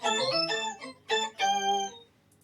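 A Boss SY-200 synth pedal on its bell 2 patch sounds a few bright, ringing bell-like notes in quick succession, each with clear overtones, the last one sustaining and fading into silence.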